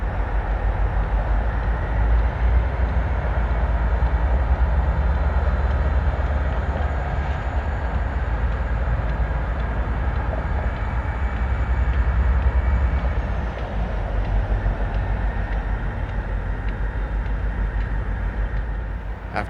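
A freight train rolling steadily along the track at Palmer, Massachusetts, a continuous low rumble with metallic rattling and occasional squeals, fairly close and unbroken throughout.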